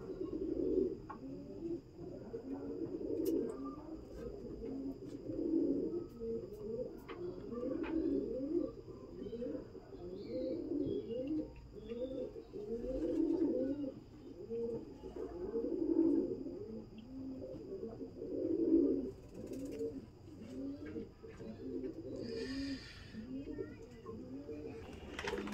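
Pigeons at a pigeon shelter coo in repeated rhythmic throaty phrases, several birds overlapping close by, with occasional faint clicks and rustles.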